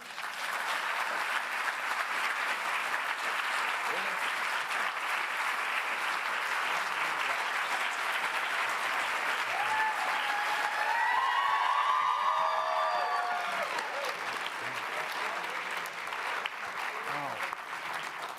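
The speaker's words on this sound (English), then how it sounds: "I usually get a rounding applause like that when I walk in." An audience at a talk welcomes the speakers with steady, dense clapping. It lasts the full stretch at an even volume, with a brief whistle-like cheer partway through.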